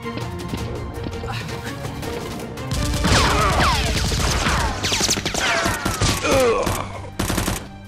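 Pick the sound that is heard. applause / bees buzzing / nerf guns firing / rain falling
nerf guns firing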